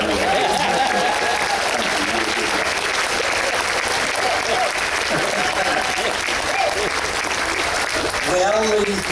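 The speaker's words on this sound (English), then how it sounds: "How about a big round of applause for Patrick?" A theater audience claps steadily and densely for a performer named Patrick at the close of a live stage show, the applause filling the room continuously, with a few voices calling out over it near the end.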